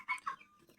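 Twenty-two-day-old broiler chickens give two quick, close clucks followed by a faint trailing call in a brief burst.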